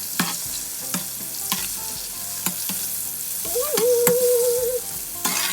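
Breaded oysters deep frying in hot oil, a steady close sizzle with periodic sharp clicks from stirring, and a person briefly speaking over it.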